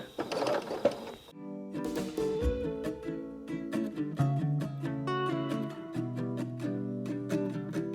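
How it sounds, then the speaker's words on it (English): A domestic sewing machine runs in short and longer rhythmic stitching bursts, back stitching fabric for a small pocket quilt, fairly close and moderately quiet. "So you do want to back stitch."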